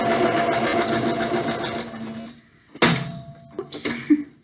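A sewing machine stitches along a pinned pillowcase edge, a fast steady whir for over two seconds, then short separate bursts as the seam is backstitched and sewn forward, close and loud, with no voices.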